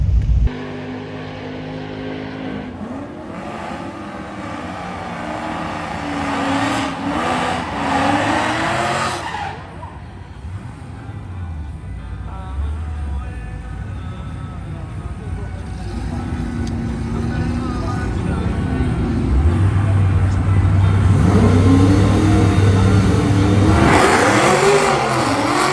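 An LSA-swapped IROC-Z Camaro launches at a drag race with a loud revving engine that climbs, drops off, then builds again into a hard roaring pull, with tire noise mixed in.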